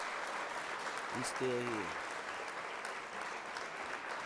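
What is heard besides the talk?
applause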